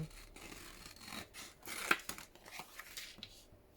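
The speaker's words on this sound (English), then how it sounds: "I've got to cut this section either way" Scissors snip through a section of paper during junk journal crafting, a series of soft close cuts and rustles with one sharper snip in the middle, quiet and unaccompanied by talk.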